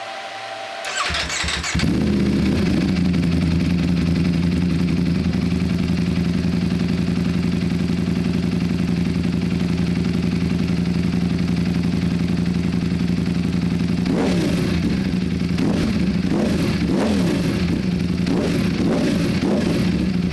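A Ducati Panigale V4S with a Termignoni titanium slip-on exhaust fires up from cold after a brief crank and settles into a loud, steady, throaty idle, with a few sharp revs blipping near the end.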